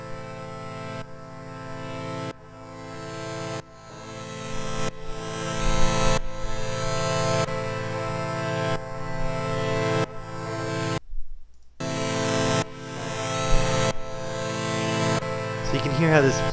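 A Roland AIRA System-1 synthesizer played back in Ableton Live, with sustained, harmonically rich chords changing every second or so and one brief silent break midway, loud and continuous.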